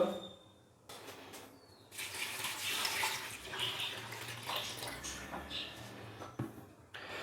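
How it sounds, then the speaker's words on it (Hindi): Two litres of water pour steadily into a cooking pot for beef yakhni, a continuous gushing splash that starts after a short pause and runs on, close by and moderately quiet. "मैं इसके अंदर जो पानी है वो 2 लीटर डालूंगा"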